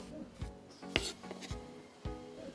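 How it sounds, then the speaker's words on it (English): A knife dices onion and garlic on a cutting board, giving a handful of soft, uneven chopping taps and scrapes. It sounds close but fairly quiet, with no talk. "First, we will dice our onion and follow that up with the garlic."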